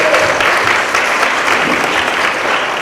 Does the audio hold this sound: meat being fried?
no